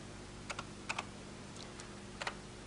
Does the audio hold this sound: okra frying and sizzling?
no